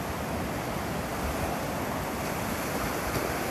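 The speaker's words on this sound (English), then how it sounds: "Gonna take advantage of these little waves." Small ocean waves wash steadily onto the beach at Delnor-Wiggins, a continuous broadband roar of surf with light wind noise against the microphone, with no pauses or voices.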